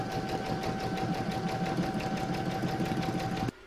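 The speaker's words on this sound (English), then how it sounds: "Next is round number 11, and that's going to stitch from here to here." An embroidery machine stitches round 11 of an in-the-hoop table topper, a steady fast mechanical whirring hum with a rapid needle pulse and a faint tonal whine, running close and continuous before stopping abruptly near the end.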